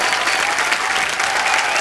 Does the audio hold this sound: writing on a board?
no